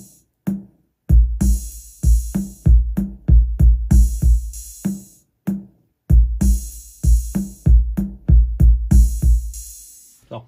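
Drum loop programmed on a Polyend Seq with an open hi-hat: punchy kick and snare hits in a steady repeating pattern, with bright sustained hi-hat hits ringing between them, loud and alone without any talking.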